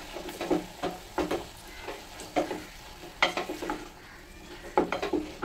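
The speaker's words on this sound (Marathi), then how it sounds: "हळद, गरम मसाला मिक्स करून घेऊया छान" Turmeric and garam masala are stirred into a veg mutter pulao in a pot, a spoon scraping and clinking in repeated rhythmic strokes over a soft sizzle.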